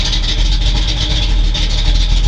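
A 1968 Pontiac Firebird engine idling at around 600 RPM, a loud, steady, close low rumble with an even pulsing throb and no talk.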